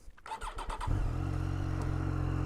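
A 2019 Triumph Street Triple R engine cranks briefly with a few rapid clicks, then catches and settles into a steady, loud, rumbling idle through a Euro 5 exhaust.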